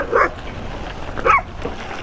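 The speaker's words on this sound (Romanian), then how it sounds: "Doi căței, dornici să alerge niște roți." Two small dogs chase passing bicycles on a dusty valley descent, giving two quick yapping barks about a second apart, moderately close over rustling outdoor background noise.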